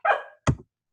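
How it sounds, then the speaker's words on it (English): A pet dog gives two barks indoors, a sharp, fairly loud bark followed by a shorter, clipped one, then silence. "That was my dog."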